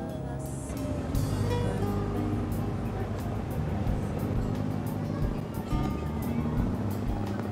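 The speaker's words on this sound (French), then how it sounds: "certains bateaux plus rapides forcent le passage et s'approchent dangereusement de la petite embarcation" Engine drone of fast motorboats roaring past a small boat, a steady loud rumble with rising and fading motor noise and indistinct voices underneath.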